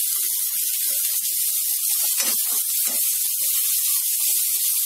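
Onion joins ginger and curry leaves frying in a hot pan, a steady close hiss of sizzling oil that holds evenly throughout.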